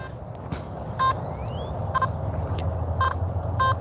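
A metal detector gives short electronic beeps, several in a row at intervals, over a small metal pole, with a constant low rumble outdoors.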